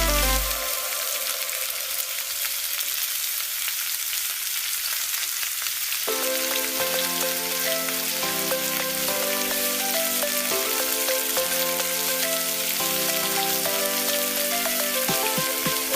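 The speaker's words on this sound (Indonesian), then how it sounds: "lalu kita goreng tahunya dulu" Tofu frying in hot oil in a pan gives a loud, continuous crackling sizzle throughout, with music joining in partway through.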